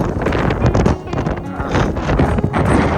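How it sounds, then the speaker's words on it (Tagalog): Strong wind gusting after a snowy blizzard in Manitoba, Canada, roaring close to the microphone with continuous broadband buffeting and rumble throughout. "Kung titingnan nyo yung snow, oh, grabe, ang lakas ng hangin, no?"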